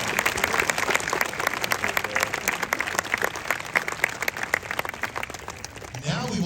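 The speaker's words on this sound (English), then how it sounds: "can you please stand as we give you a round of applause for your service to Rochester?" A high school graduation audience gives a fire chief a round of applause, dense and loud clapping with crowd noise that continues for several seconds before tapering near the end.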